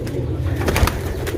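Pigeons cooing in a loft with low, throaty coos repeating over a steady background hum, with no talk.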